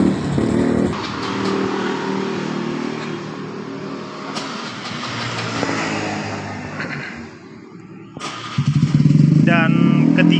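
A 2023 Honda Genio scooter engine with a spark plug fault runs close by with an uneven, sputtering note, then revs louder near the end, while a voice talks over it.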